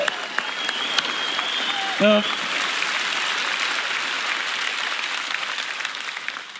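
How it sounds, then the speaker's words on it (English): An audience gives a round of applause at a political gathering, a steady wash of clapping throughout, with a short spoken word from a voice partway through. "Please give them a round of applause."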